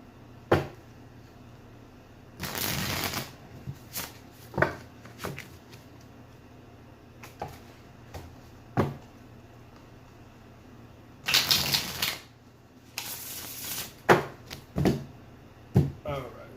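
Tarot cards are shuffled in several quick riffling bursts separated by softer handling taps and pauses, close and fairly quiet.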